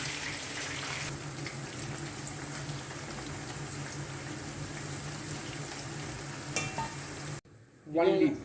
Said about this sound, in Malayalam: വാഴയ്ക്കയും മഞ്ഞൾപ്പൊടിയും ഉപ്പും ഇട്ട് വെറുതെ മാരിനേറ്റ് ചെയ്തത് ഡീപ്പ് ഫ്രൈ ചെയ്യണം